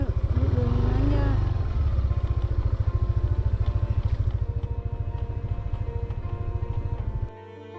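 A troubled motorcycle engine runs steadily on a rough, rocky road, a loud continuous low drone with faint clatter throughout before cutting off abruptly near the end.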